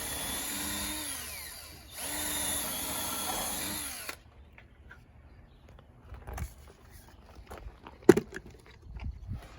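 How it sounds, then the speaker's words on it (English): A power drill whirs loudly in two bursts with a brief pause between, then stops, followed by quiet scattered knocks and handling noises while building a pallet shed roof. "I'll need the drill now"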